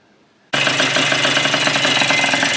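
A 1984 Kawasaki KDX80 motorcycle engine, being restored, suddenly fires up after near silence and runs loud and close with a rough, buzzing two-stroke tone and no talk.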